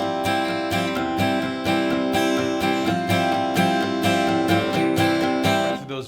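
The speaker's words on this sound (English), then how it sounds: "it's kind of like a waltz with your pick, where you hit the top 3 strings and the second strings" Acoustic guitar strummed with a pick in a waltz-like pattern, hitting the top three strings then the second strings, a steady, close, ringing rhythm of chords alone that stops near the end.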